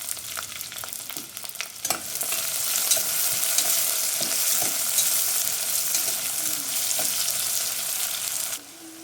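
Thinly sliced onions and five slit green chillies dropped into hot oil in a pot for country chicken pulao, a steady loud sizzle and frying hiss with a few stirring knocks, close and without talk.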